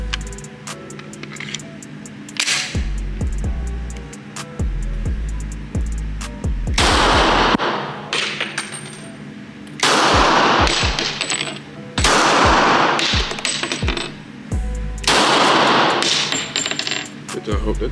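Handheld firearm fired outdoors near a police station, single loud sharp shots at irregular intervals with short gaps, close and dominant, with handling noise between reports.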